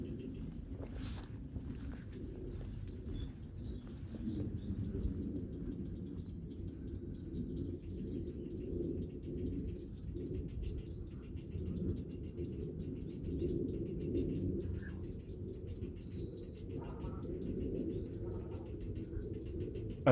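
Birds call around birdhouses in the trees of the Château de Kerzo grounds at Port Louis, Morbihan: occasional faint chirps and a few coos over a steady low outdoor rumble, with no one speaking.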